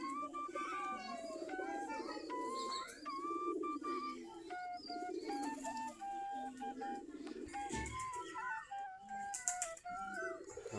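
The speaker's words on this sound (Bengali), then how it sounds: "আমাদের দেশি গিরিবাজ কবুতর" Several desi Giribaz pigeons in a loft give repeated soft, rolling coos that overlap in a continuous low murmur, quiet and close by throughout.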